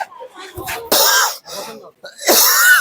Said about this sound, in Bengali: ও কাশি আসতেছে